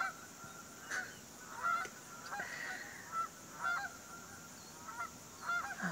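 Repeated loud honking calls from ducks, several overlapping bursts in an irregular rhythm against a noisy outdoor background.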